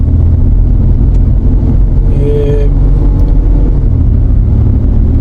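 A Mitsubishi Pajero on a road test after a gear-light blinking fault repair, its engine droning steadily and loud as it runs in third gear, with a short whine rising mid-clip and a brief spoken word over it.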